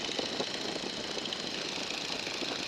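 Steady drone of a light aircraft engine throttled back to about 1,600 RPM, heard from inside the cabin as an even, continuous hum with no talk over it.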